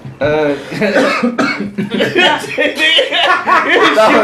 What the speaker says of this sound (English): That was a real cough, though.